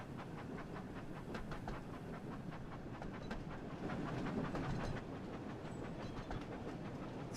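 A Thomas & Friends train in the Wonders of Sodor game, heard quietly as it rolls on rails with steady clickety-clack rhythm and a rumbling hum that swells slightly midway, with no talking.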